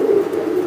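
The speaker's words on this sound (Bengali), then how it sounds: "এটা সিলভার কবুতর" A silver pigeon coos in a low, steady hum for under a second, close by and fairly loud, with no voices over it.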